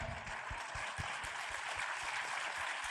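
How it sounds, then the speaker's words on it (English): An audience at a literature festival session applauds, rapid dense clapping heard fairly faintly and steadily across the moment. "applaud for India."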